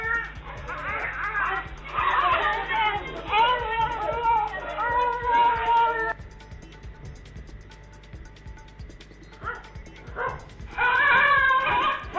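A security camera captures a dog yelping and whimpering as a leopard attacks and seizes it in its mouth. Loud bursts of yelps are followed by a quieter stretch, then another sharp burst near the end.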